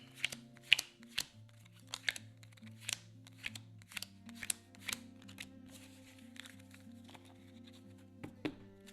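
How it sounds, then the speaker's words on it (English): Wingspan board game cards are shuffled by hand on a table, producing a series of crisp riffling snaps and soft taps at irregular intervals, with light background music underneath. "We'll shuffle these up."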